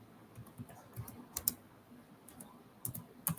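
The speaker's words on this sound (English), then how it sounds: "I'm just typing this in while I wait." Quiet keystrokes on a computer keyboard come in loose, irregular clusters of soft clicks, close but low in level against faint background noise.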